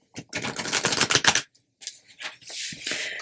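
A deck of Lucky Auspicious Symbols cards is shuffled in close, crisp riffling bursts, a long flurry followed by a brief pause and then shorter rustling runs.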